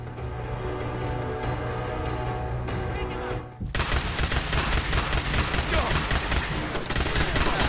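Automatic weapon fire in the video game Fallout 4: a steady buzzing drone at first, then a sudden burst of loud, rapid gunshots that continues to the end.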